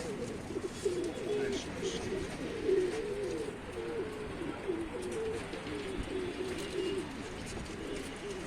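Pigeons kept for sale at a loft in Tanta, Egypt, coo repeatedly in low, rolling phrases throughout, fairly close and steady against a soft background hiss.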